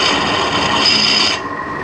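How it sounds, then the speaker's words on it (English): Drill bit boring out a broken bolt from the cylinder head of a Yamaha Road Star motorcycle, a continuous close rasping grind lasting under two seconds before cutting off. "so let's drill a little bit larger."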